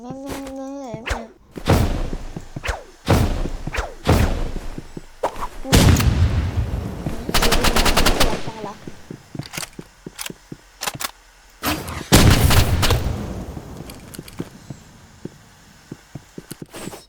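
Pistol gunfire in a video game rings out as repeated loud, close booming shots in bursts and rapid runs, with heavy impact thuds, over a busy game soundtrack; a voice speaks briefly at the start.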